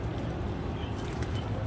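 Pigeons cooing close by in a short burst, soft low throaty coos over a busy background, with no talk.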